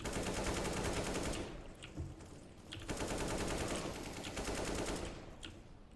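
Rapid bursts of M4 rifle fire in Counter-Strike: Global Offensive crackle loudly in dense automatic volleys, broken by short pauses and single sharp shots, with no talking.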